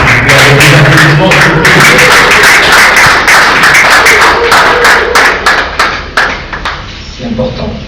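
Loud audience applause for mothers at a Congolese gathering, dense continuous clapping from many hands that thins toward the end into scattered individual claps.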